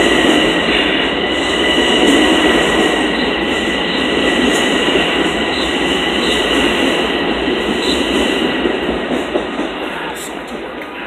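A Long Island Rail Road Main Line train at New Hyde Park station, during switch trouble, rumbles loudly and steadily close by, with a high metallic whine from the wheels and rails throughout.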